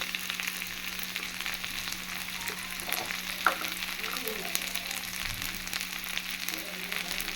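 Steady sizzling of onions frying in a pan, a continuous crackling hiss with a few faint clinks of stirring.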